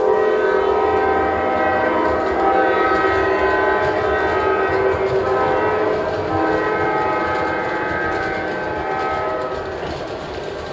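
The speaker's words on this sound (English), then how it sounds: "the G-scale model sounds very much like the real thing" A G-scale MTH model diesel locomotive runs steadily with a sustained horn blast and a continuous rumbling drone, loud and close throughout, fading slightly toward the end, with no talk.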